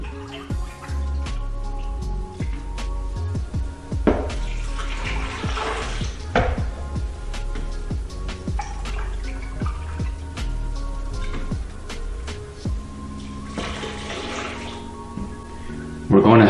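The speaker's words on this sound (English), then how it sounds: "Now we're gonna add 3 cups of milk." Milk is poured into a blender jar holding mango chunks and strawberries, sounding as close, continuous splashing and gurgling with intermittent drips, with a brief louder clunk near the end.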